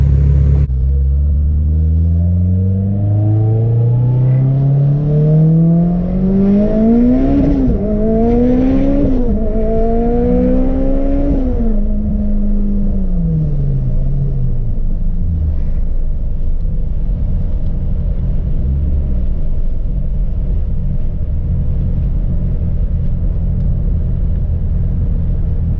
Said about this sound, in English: So as you guys can see, the car rips.